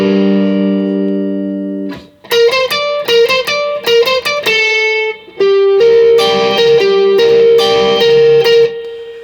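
An electric guitar riff is played through a clean amp with an MXR Duke of Tone overdrive, giving a lightly driven tone with choppy, rhythmic single notes and sustained held notes.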